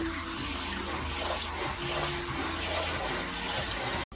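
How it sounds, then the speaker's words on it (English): Running cold tap water gushes steadily with splashing over lasagna noodles in a sink, continuous and fairly loud, stopping abruptly at the end. "I will need to rinse these just a bit in cold water."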